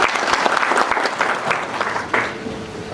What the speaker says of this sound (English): Can you clap for our Governor?